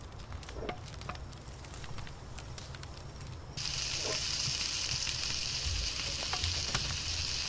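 Food sizzles and fries in the video game Palworld, a quiet continuous crackle that grows louder and brighter partway through, with scattered faint clicks and pops.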